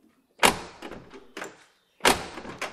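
Door of an old car in a workshop opened and shut: two loud clunking impacts, each followed by softer rattles and knocks, close by with no talk.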